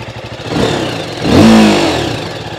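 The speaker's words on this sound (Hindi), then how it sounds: "तो सबसे पहले मैं आपको इसका एग्जॉस्ट नोट सुना देता हूं" A 2024 TVS Apache RTR 310 motorcycle idles with a burbling exhaust note, then is blipped once into a short, rising rev before dropping back to idle, heard up close with no talk.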